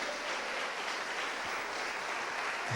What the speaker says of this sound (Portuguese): Dê uma salva de palmas ao Senhor Jesus